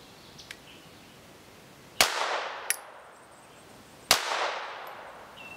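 Keltec P17 .22 LR pistol firing during a three-shot accuracy test: sharp reports roughly two seconds apart, each followed by a short ringing decay, plus a fainter crack in between.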